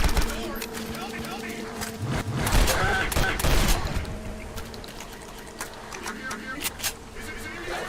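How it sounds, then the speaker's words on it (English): Rapid gunfire from the first-person shooter Legendary, a flurry of sharp shots of varying loudness over an ongoing game soundtrack, with a voice talking over it. "So you just blow their heads off with your gun instead."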